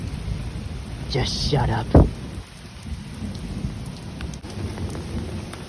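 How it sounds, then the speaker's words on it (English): Steady rain hisses through a thunderstorm, with a sharp crack of thunder breaking through partway in; a voice speaks briefly over the downpour near the start. "sure, it's a thunderstorm, but at least it's nice"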